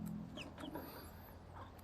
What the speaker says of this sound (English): My baby chickens are getting so pretty and so big.